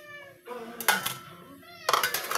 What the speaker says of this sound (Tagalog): Sige nagmiyaw-miyaw.